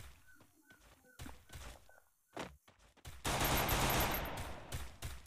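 Gunshots in a shooting video game: a few sharp, separate shots, then a loud sustained burst of rapid fire that runs for about two seconds.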